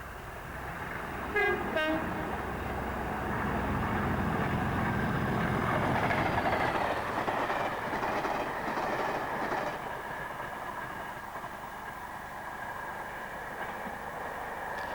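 A cross-country passenger train from Holyhead, bound for Birmingham, rumbles past steadily with a brief two-tone horn early on, then wheel clatter and a sustained roar that slowly fades as it recedes.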